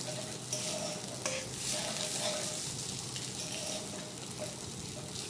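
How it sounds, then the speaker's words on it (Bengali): Spiced potato mixture for potato chops fries in oil, giving a soft continuous sizzle with occasional stirring scrapes, fairly quiet and steady. "সুন্দর করে লাল লাল করে ভেজে নেব একদম।"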